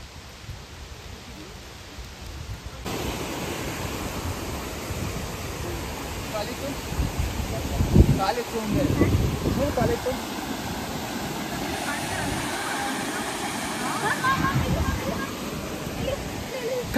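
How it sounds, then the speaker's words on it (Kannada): Roaring waterfall heard from a forest trail in Chikkamagaluru, a steady broadband rush that stays constant throughout, with people talking faintly nearby. "falls sound ಕೇಳ್ತಿದೆ"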